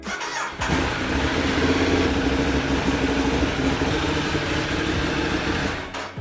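A Ducati 848 Streetfighter motorcycle engine fires up after a brief moment and runs steadily and loudly at idle, still warm, close by and with no talking.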